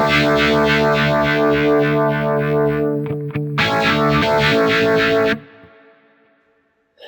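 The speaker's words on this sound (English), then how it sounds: "So the Vibe sounds like this." Sustained electric guitar chords swirl with a pulsing vibe modulation effect from a Quad Cortex, a brief muted pause midway, then the chord stops and rings out into silence.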